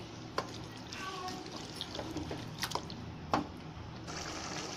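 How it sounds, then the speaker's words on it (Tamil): Chicken and onions sizzle in a pan for Chettinad chicken kuzhambu, a continuous soft frying hiss broken by a few sharp spoon scrapes and clinks as the mixture is stirred nearby. "சிக்கனை வந்து இந்த வெங்காயத்தை பாலோட சேர்த்து நல்லா mix பண்ணிக்கலாம்."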